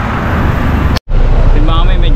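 Constant road traffic rolls through a busy crossing controlled by a signal light, a loud, steady roar broken by a brief cut, with someone talking over it afterward.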